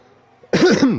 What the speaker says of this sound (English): Excuse me, just a little cough.